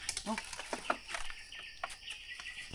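Chicken clucking in a forest, a few short bursts in quick succession, fairly close and clear, with faint rustling and background noise between the calls.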